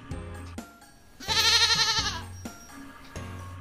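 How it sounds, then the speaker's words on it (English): A single loud, wavering goat bleat rises clearly over soft background music, close and drawn out for under a second. "G for goat."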